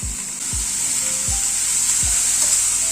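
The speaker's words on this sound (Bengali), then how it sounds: "ডালটা এবার মশলার সাথে একটুখানি কষিয়ে নেব।" Masoor dal lentils sizzling in hot oil with frying spices, a steady bright hiss with three or four low thumping stirs spaced evenly, close and loud, with no talk.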